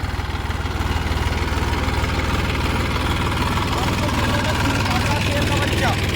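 A Massey Ferguson 245 tractor engine idles at about 800 RPM, a steady close, loud low throb with an even rhythmic pulse that holds throughout.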